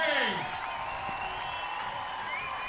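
A crowd cheers and whoops around the central court at a beach tennis tournament, a loud burst that eases into sustained roaring with a commentator talking excitedly over it.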